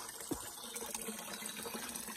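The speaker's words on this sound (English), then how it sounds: "There's a fresh water coming from the hill." Fresh spring water runs from a hillside on Mtatsminda Mount in Tbilisi, a continuous close splashing and trickling stream with no pauses.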